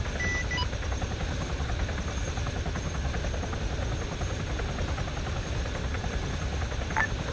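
A Huron helicopter hovers in place in a military video game, its rotors producing a constant, loud, even throbbing drone for the whole stretch with no speech.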